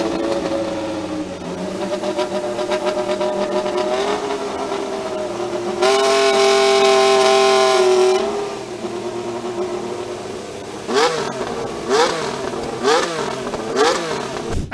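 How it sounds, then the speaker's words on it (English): A 2025 McLaren Formula 1 car engine revs hard and high, rising into a sustained scream, then blips up and down in quick bursts, loud and close with no voices. "We also got to hear our first 2025 car with that McLaren."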